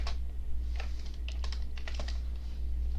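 Quick, light keystrokes on a computer keyboard as code is typed, close and clicky in irregular bursts over a steady low hum.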